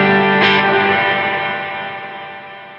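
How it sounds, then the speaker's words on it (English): Bright analog effects pedal reverb with a plate- or shimmer-like character: one sharp struck note or chord rings out, then a long glossy tail of sustained tones slowly fades and dims. "It's almost kind of verging on like an 80s kind of plate reverb or like a shimmer verb or something"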